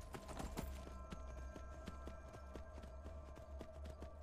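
Horse hooves clip-clop in a steady running rhythm as a horse is ridden in the video game Skyrim, fairly faint, with a low rumbling bed beneath the repeated thuds.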